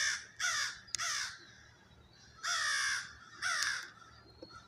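Crow cawing in the open outdoors, four loud harsh caws in two spaced pairs, close by with no other sounds competing.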